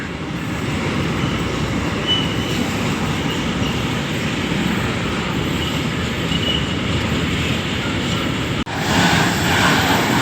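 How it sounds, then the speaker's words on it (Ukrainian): A loaded freight train rolls past close by, one steady loud roar of wheels and rattling wagons across a level crossing near Košice in Slovakia. It holds constant and briefly dips before surging on. "Це раз товарнячок."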